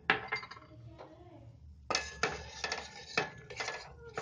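A spoon stirs custard pudding in a metal pot over a medium gas flame, with repeated scraping and clinking strokes against the pot, close and distinct, coming in bursts with short pauses between.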